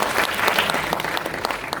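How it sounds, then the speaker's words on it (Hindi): An audience claps steadily and loudly at a Minority Rights Day ceremony, a dense, continuous applause of many hands that lasts the whole moment. "मैं आपसे गुजारिश करूंगा एक जोरदार तालियों के साथ हमें इनका धन्यवाद करना चाहिए"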